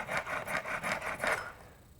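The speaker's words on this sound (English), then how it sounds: "You can use this honing wheel with just about anything according to the instructions" A blade is worked against a honing wheel in a steady back-and-forth rasp, five or six close rubbing strokes of even loudness that fade out at the end, with no voices.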